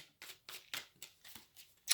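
Tarot cards shuffled by hand in a series of about seven quick, crisp riffling bursts with short pauses between, close and fairly quiet, with no talking.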